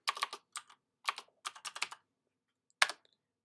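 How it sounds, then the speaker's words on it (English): Quick clusters of keystrokes on a computer keyboard entering a command at a terminal, close and crisp, with short pauses between bursts and a final single tap. "you just type from the command line"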